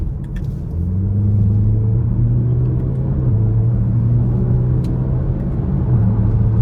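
A 2020 Range Rover Velar R-Dynamic S in dynamic mode pulls onto an interstate, its engine droning steadily from inside the cabin. Pitch climbs, then drops at a quick paddle-shift gear change before rising again. No one speaks.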